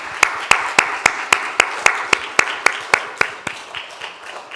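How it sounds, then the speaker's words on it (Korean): Church congregation applauding in thanks, a slow, steady run of about fifteen distinct, evenly spaced claps, fairly loud and close, with no talk over it. "이들을 위해서 감사의 박수 한번 하겠습니다."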